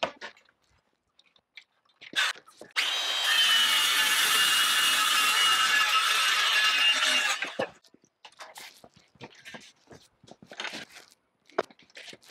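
A circular saw cuts the floor panel for a level cargo area in a 2-door Ford Bronco Badlands. It gives one loud, close, steady whine for about four seconds, with quieter handling noises before and after.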